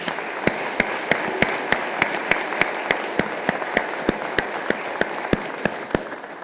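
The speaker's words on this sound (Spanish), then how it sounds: "Un aplauso para nuestro Señor." Steady applause from a crowd at a church Mass, with regular sharp claps standing out evenly above the wash of clapping.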